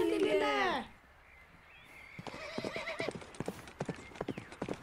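A horse whinnies loudly, then hooves clip-clop on a hard surface in an uneven rhythm, growing closer, with faint voices in the background, from an animated cartoon.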